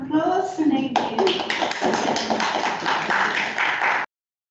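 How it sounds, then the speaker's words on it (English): Audience giving a round of applause after an academic talk on Andean reciprocity, a steady wash of many hands clapping that starts after a brief moment of voice and runs evenly for about three seconds before cutting off abruptly. "So, a round of applause."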